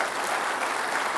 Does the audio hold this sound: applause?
yes